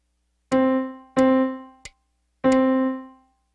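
Four piano beats where the third is replaced by a rest: three sustained notes at about 0.5, 1.2 and 2.5 seconds, each ringing and decaying, with only a short muted tick in the gap where the third note would sound.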